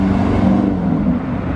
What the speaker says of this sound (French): C'est une V8 avec les 4 pots